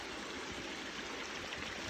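A small waterfall and creek flowing across a jeep trail in the woods make a steady, close rushing babble with no voices present.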